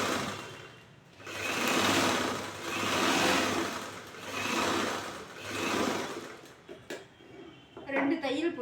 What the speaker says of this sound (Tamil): 2 பீஸையும் சேர்த்து வச்சு கழுத்து பகுதியிலேருந்து தச்சுட்டு வரோம்.